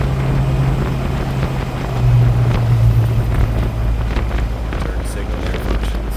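A 1964.5 Ford Mustang convertible engine drones steadily on a test drive, pitch shifting as it moves through the gears, with heavy wind buffeting the microphone and road noise throughout.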